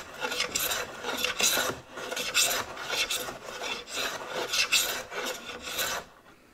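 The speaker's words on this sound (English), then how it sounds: "Now what I'm doing is I'm doing favoring this end as I'm planing" An antique stop chamfer hand plane working along a piece of wood, rhythmic rasping strokes repeated about once a second, close and clear with no voices.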